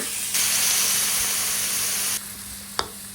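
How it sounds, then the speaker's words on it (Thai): Water poured into a hot pan of stir-fried zucchini erupts into a loud steady hiss and sizzle up close, cutting off abruptly, followed by a couple of sharp utensil clinks. "ใส่น้ำ"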